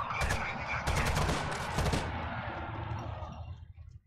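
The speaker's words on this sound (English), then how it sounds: "They're shooting." Gunfire rattles out in a Rainbow Six Vegas 2 firefight: loud bursts of automatic fire and sharp shots, clustered in the first two seconds, then fading into a decaying tail.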